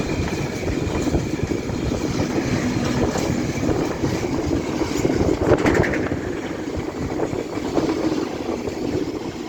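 A Class 69 diesel locomotive working a test train passes at Church Fenton on the East Coast Main Line, loud and steady with rumbling engine and clattering wheels throughout, plus some wind buffeting.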